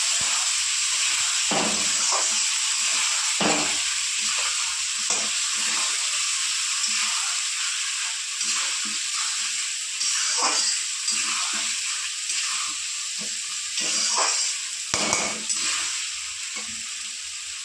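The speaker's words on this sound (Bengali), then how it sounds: "মশলাটা ভালো করে কষিয়ে নেবো" Onion, chili and whole cumin paste frying in oil for a tilapia curry, a steady close sizzle and hiss with soft stirring scrapes now and then, no voices over it.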